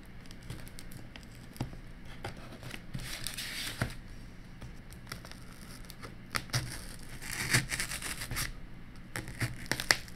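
Cardboard packaging of a Xiaobawang S200 handheld is torn and pulled apart by hand, with scattered rips, crinkles and rubbing scrapes, fairly quiet and close, with a few sharper tearing bursts.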